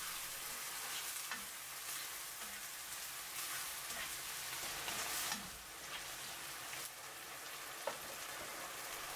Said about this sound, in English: Add the seasoning sauce. Stir for 1 minute.